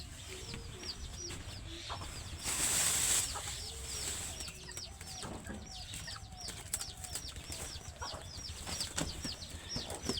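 Chickens clucking and chirping in short repeated calls close by, with a brief burst of rustling or flapping partway through and steady background noise.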